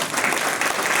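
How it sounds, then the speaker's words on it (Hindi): An audience in a wellness seminar hall breaks into dense, loud applause, sustained clapping from many hands for the whole second. "एक बार जोरदार तालियां आप सभी के लिए"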